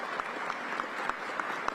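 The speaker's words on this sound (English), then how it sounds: "Round of applause." Faint, scattered clapping from an audience at a talk about the Wanamaker Organ in the former Philadelphia Macy's store, brief and distant with a few sharper individual claps.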